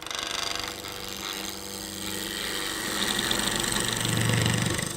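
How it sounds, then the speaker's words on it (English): A skew tool on a wood lathe makes a planing cut while turning a wooden sphere, a steady whirring hum with a low motor drone that swells slightly toward the end, heard alone and fairly close. "So this is a planing cut. I'm focusing on the bottom 2/3 of the tool."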